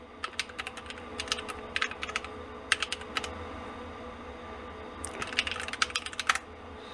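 Quick bursts of computer keyboard typing, bright rapid key clicks in several short runs separated by pauses, close and clear with no talk.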